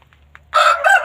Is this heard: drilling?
no